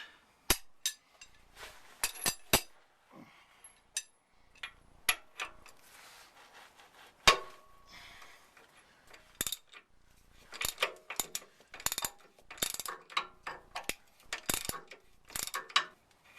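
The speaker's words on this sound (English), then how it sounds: "We'll be using breaker bar, and this particular one is a 1 1/16 socket." A breaker bar with a 1 1/16 socket works on a tie rod of a GM square-body truck, giving faint, scattered metallic clicks, knocks and ratcheting ticks at irregular intervals, with no talking.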